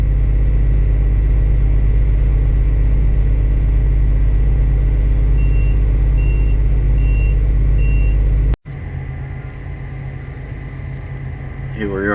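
Heavy truck rolling over loose dirt to pack the first lift of a pond dam, a loud low engine rumble with intermittent high reversing beeps, then an abrupt cut to quieter, more distant engine rumble with a voice speaking.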